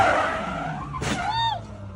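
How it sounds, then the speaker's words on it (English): A car drifting and skidding on a road, a brief broad burst of tire noise followed by a rising then falling squeal, heard over steady traffic and engine rumble. "Drifting sometime can be a fool's business."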